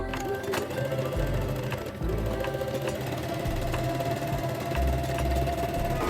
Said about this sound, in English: sew the side seams from sleeve hem down to the bottom of the dress